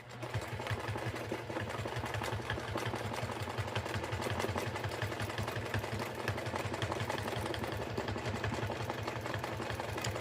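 Sewing machine running continuously while quilting a table runner, a fast, even mechanical whir and rapid needle ticking, close but fairly quiet, with no voices.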